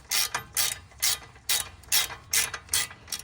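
A ratchet with an 18 mm socket tightens brake bracket bolts on a Ford Crown Victoria, producing about eight crisp, evenly spaced clicking bursts from each back-and-forth stroke, close and isolated.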